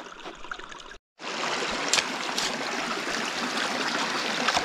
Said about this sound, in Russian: Буквально вот несколько минут уже вода пошла.